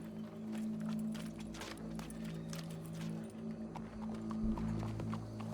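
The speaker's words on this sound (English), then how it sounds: "Go brush that horse," Horse hooves clip-clop at a steady walking pace in the video game Red Dead Redemption 2, moderately close, over a low background drone with no talking.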